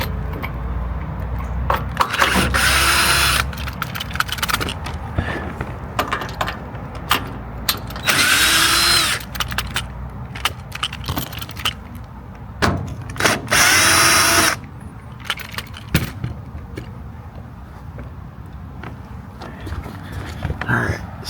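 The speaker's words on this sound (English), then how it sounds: "So see, I got my drill right here, and then all I gotta do is just take these apart right here." A cordless power drill repeatedly spins out screws while taking apart a heat pump HVAC unit, in short whirring bursts with metallic clicks and handling noise between them.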